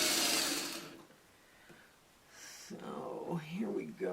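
A sewing machine stitches quarter-inch seams on a Barn Swallows quilt block, a short loud whirring burst at the start that stops abruptly, followed by quiet handling noise and a soft voice speaking.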